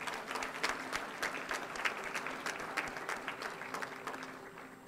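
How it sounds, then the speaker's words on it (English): A crowd claps steadily at a length of service awards ceremony in honor of an absent award recipient, a dense sustained round of applause with no speech over it. "let's just give her a round of applause"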